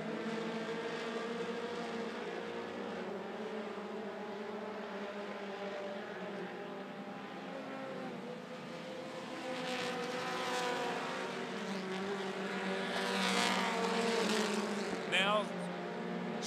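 Mini stock race cars run at a speedway, a continuous buzzing engine drone from a pack of cars with rising and falling pitch as they pass, under a commentator's voice.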